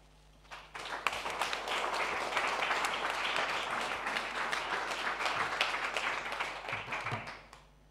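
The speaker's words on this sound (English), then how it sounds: "there was a big applause for your presentation" An audience applauds after an economics lecture on transformative learning, a dense wash of clapping that builds within the first second, holds steady and fairly soft for several seconds, then fades out toward the end.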